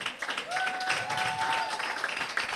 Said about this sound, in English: give big round of applause for our next startup